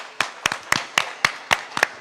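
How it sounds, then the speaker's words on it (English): At a property launch ceremony, a few people clap in a steady rhythm, eight or nine crisp, fairly close claps spaced evenly, with no talk over them. "Big round of applause."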